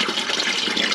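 Water rushes through a household pipe at about 18 to 19 litres per minute, a steady, close hiss of flowing water with no break.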